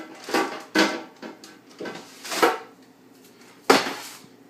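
A whole fish sliding onto a pan during grill prep, heard as a handful of close, soft scraping and clattering bursts with short pauses between them, no talk.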